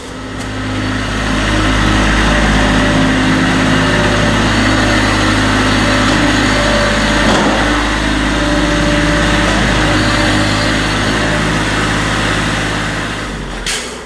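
A Kubota compact tractor engine runs steadily at idle for the whole stretch, a close, continuous low drone with a constant hum and faint higher whine, no talk over it.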